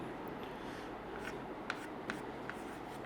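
Chalk or marker writing a chemical reaction on a classroom board, faint scratchy strokes with a few soft taps, quiet and close under steady room hiss.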